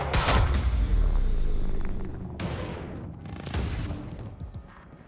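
Heavy gunfire from the video game Quantum Break: a loud, dense burst of shots in the first two seconds, then a sharp crack and scattered further shots that trail off into quieter rumble.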